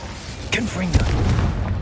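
A Confringo blasting spell in Hogwarts Legacy bursts with a short boom and crackle, followed by a lingering rumble amid other game effects.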